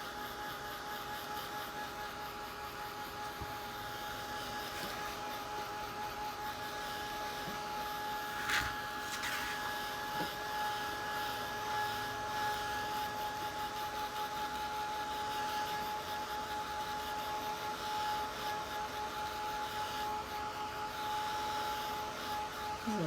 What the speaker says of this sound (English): let me hit that with a hairdryer right quick